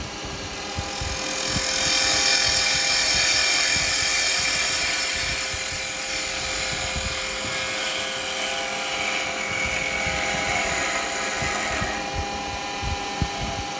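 A half-inch spindle gouge cuts wood spinning on a lathe while turning a yo-yo, giving a steady whirring hum with continuous scraping texture at moderate volume, without talk.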